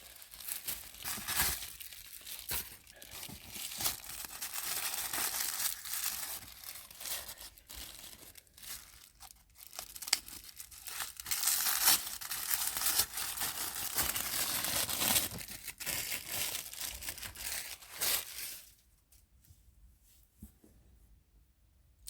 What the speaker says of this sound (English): let's unwrap this and see what we have